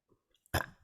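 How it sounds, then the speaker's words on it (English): A single loud, close burp erupts after a few soft mouth clicks, a short guttural belch that trails off quickly during a podcast recording. "Thank you for being the first one to burp on air."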